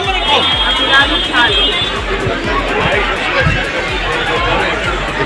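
Dense crowd chatter outside the entry gate of Dasharath Bhawan in Ayodhya, a steady wash of many overlapping voices with footsteps and movement mixed in, close and continuous.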